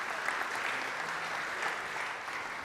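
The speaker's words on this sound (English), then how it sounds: "you can give them a round of applause" An audience at a European Maritime Day event applauds the speakers with moderate, even clapping from many hands that carries on steadily throughout.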